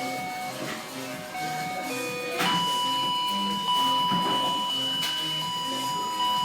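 Teenage Engineering OP-1 synthesizer plays short tones that jump between octaves, with sustained pitched notes and bright blips over a faint background of public chatter.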